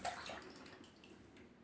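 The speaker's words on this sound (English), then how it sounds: "I tend to loosen the razor up a bit now and rinse it through" Water from a tap runs briefly over a safety razor being rinsed between shaving passes, a soft, quiet splashing that fades over a second or two, with no talking.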